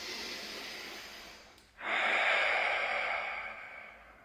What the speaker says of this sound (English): So big breath in.